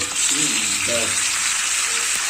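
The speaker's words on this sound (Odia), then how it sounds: "ଅଣ୍ଡା ବର୍ତ୍ତମାନ ଆମର ଭାଜି ହେଇ ଆସିଲାଣି। ଆଳୁ ଯାଇ ପକେଇ ଦିଅନ୍ତୁ, ଟିକେ ଟିକେ ଭାଜିଦେବା।" Eggs and potatoes fry together in a pan, a steady close hiss of sizzling oil that runs throughout, with a voice speaking briefly over it.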